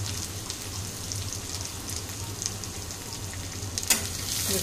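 Two small chopped onions and bay leaf are stirred in a hot pan for egg bhurji pulao, giving a steady soft sizzle with light stirring scrapes and a sharp utensil clink near the end.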